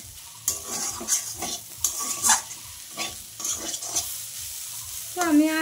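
Water spinach greens sizzle steadily in a hot pan while a utensil scrapes and stirs in irregular strokes, close up; a brief tonal squeak near the end.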